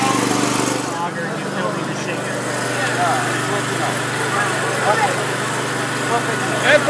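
A 10 kW generator set engine runs steadily with no gasoline in use, a constant close mechanical drone with a low hum throughout, holding nearly even loudness to the end.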